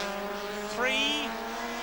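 A 1980 rallycross car driven hard at Lydden Hill, its engine a loud sustained drone with a sharp rising rev mid-way, heard close and steady.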